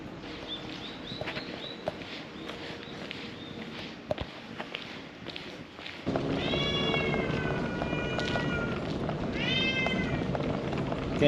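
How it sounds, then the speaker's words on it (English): Cats fight on a roof in Japan, with drawn-out yowling calls that grow louder and more frequent partway through, over faint scuffling and background noise. "Cats are fighting on the roof."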